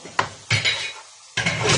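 Mussels are mixed with lemon zest and coriander in a pot, giving short bursts of clattering and shuffling shells against metal, separated by brief quiet gaps.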